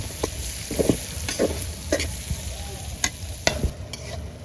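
About two cups of chopped onions fry in mustard oil for Bihari chicken. The sizzle is constant and close, with a utensil repeatedly stirring and scraping through the pan at an uneven rhythm.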